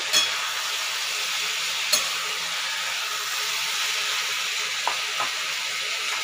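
Vegetables frying in a covered pan: a steady, even hiss of sizzling under the lid, with a few faint clicks and knocks scattered through, no voices.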